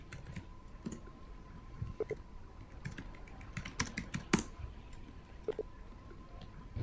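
Keys tapped on a computer keyboard while playing Quake, a soft irregular scatter of clicks with one louder tap, heard alone at low level.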